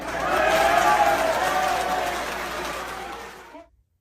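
A played recording of an audience laughing and applauding: a broad, crowded wash of clapping and voices swells quickly, holds for about three seconds, then fades and cuts to silence.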